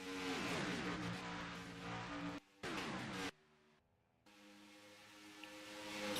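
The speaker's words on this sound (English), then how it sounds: "So we go another flyby on the back straightaway." Race cars in a Monster Energy Series event at Homestead scream along the back straightaway, the engine notes rising and falling as the cars pass one after another, fading briefly into near silence before another car sweeps by.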